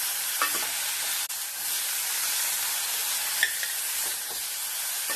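Fish and sliced pointed gourd frying in a pan give off a loud, even, close sizzle with a couple of brief clicks, with no voices.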